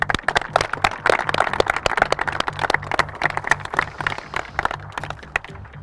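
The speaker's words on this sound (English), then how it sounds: "We'll give him a clap." Audience claps for a contestant on a studio competition show, a dense run of sharp, uneven hand claps with no voices, strong at first and thinning toward the end.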